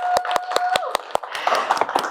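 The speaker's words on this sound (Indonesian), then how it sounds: "Tepuk tangan untuk Rina Nose." Studio audience at an Indonesian talk show welcomes a guest with applause, a sequence of sharp, separate claps in a steady rhythm, close and fairly loud, with a faint tone and some background sound underneath.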